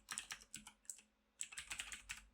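Code being typed on a computer keyboard: two short bursts of crisp, close key clicks separated by a brief pause, fairly quiet and with no talk.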